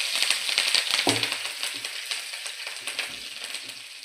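Ginger drops into hot oil with mustard seeds and coriander stems and sizzles steadily, with crackling pops and spoon scrapes over a continuous frying hiss, heard up close.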